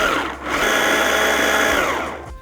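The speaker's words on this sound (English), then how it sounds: "Now grind it all up into a puree." Blender grinding eggplant, salt, pepper and olive oil into a puree, a loud continuous whirring motor that holds steady for about two seconds without any talk.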